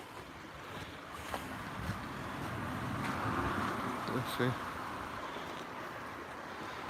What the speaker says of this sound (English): River's running hard today.